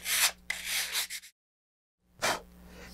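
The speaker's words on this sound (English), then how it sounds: "so I got my fins sanded" Sandpaper rubs back and forth on model rocket fins for the TTV kit, loud close rasping strokes that stop for a silent gap and then resume briefly.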